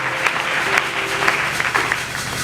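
A congregation applauds during a Friday night prayer service, a steady wash of clapping with tonal sounds running underneath, fairly loud throughout.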